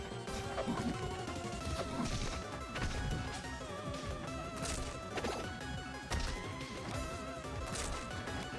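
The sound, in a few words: up smash attacks hitting in a Super Smash Bros video game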